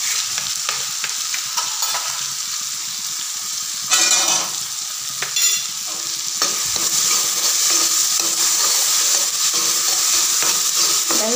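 Tomatoes fry with turmeric and salt in a pan for a raw banana curry, sizzling loudly and continuously while a spoon scrapes and stirs with repeated close strokes.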